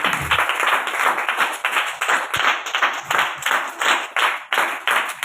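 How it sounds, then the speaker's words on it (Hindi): A church congregation claps together in a steady, rhythmic beat during a Hindi worship service, each sharp round of claps falling in even time and filling the room at close, loud level. "परमेश्वर के जोरदार ताली बजाओ।"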